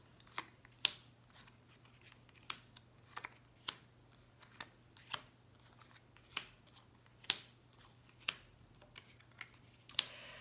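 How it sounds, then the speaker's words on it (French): Tarot cards being drawn and shuffled, giving a series of sharp, light snaps and flicks at irregular intervals, fairly close and clear against a quiet room with a faint steady hum. "Et on va tirer les 9 cartes."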